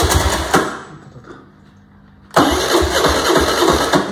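A motorcycle engine in a repair shop cranks and fires once, dies back to a near-quiet lull, then catches again and settles into a close, busy idle with a rapid mechanical clatter.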